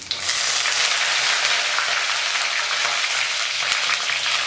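Curry leaves and fenugreek seeds fry in hot oil over a low flame for a fish kulambu, producing a loud, dense, continuous crackling sizzle close up with no talking.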